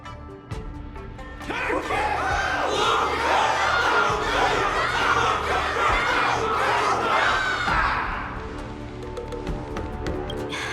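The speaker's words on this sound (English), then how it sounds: "Everyone's cheering for you, Luca!" A large crowd in the video game Honkai: Star Rail cheers and shouts continuously for several seconds, loud and energetic, swelling in and then tapering off near the end.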